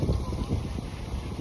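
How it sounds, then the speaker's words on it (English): Steady wind blowing outdoors on a walk near trees, a continuous low rumbling buffet of gusts hitting the microphone, fairly loud with no talking. "It's quite windy."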